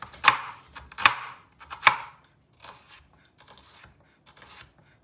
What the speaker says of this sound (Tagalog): Slice ng masyadong manipis. Ganun siya, manipis na manipis.